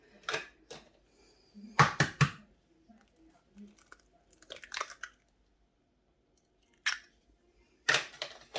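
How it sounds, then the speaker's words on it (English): Two eggs cracked in a home kitchen while making Marmite muffins, sharp crunchy shell cracks in two clusters with quieter squishy sounds and pauses between them. "So I'm now going to crack the 2 eggs"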